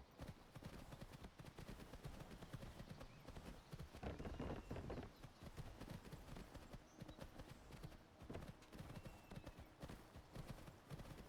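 Steady galloping clip-clop of a horse's hooves in Skyrim with a horse animation mod, a continuous close rhythmic pounding lasting throughout with no talk.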